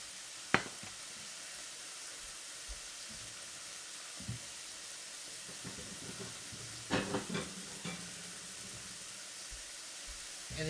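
Food sears in a hot pan with a faint, steady sizzle underneath. Scattered clinks and scraping knocks of utensils come through, and a cluster of louder clatters falls near the middle.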